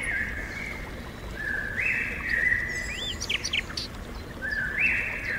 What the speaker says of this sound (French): Vous pouvez apercevoir également différents sons d'oiseaux qui se trouvent à proximité.